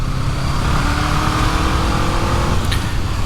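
A 2023 Honda CL500 Scrambler's 500cc parallel twin engine chugging steadily while riding, a loud, even drone with constant wind rush, no voices.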